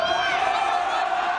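Students at an East High School girls' volleyball game cheer loudly: a dense, continuous roar of many shouting voices, close and sustained throughout.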